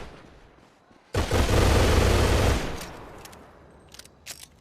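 A loud, dense burst of revolver fire in a PS4 video game lasts about a second and a half, then fades into a few fainter sharp clicks and reports.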